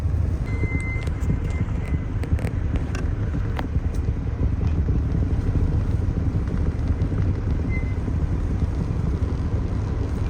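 A vehicle drags a stuck Chevrolet Suburban through a snowy ditch in the Pacific Northwest, a loud steady engine drone with low rumble and occasional clanks throughout, no voices.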